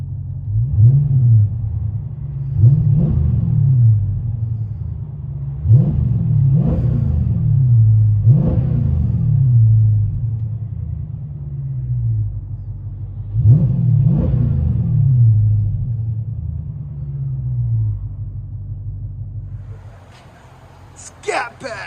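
From inside the cabin of a 2020 Dodge Challenger Scat Pack, the 6.4L HEMI V8 with dual exhaust, Vibrant bottle resonators and quad tips rumbles low, swelling in several repeated revs over a deep idle before quieting near the end.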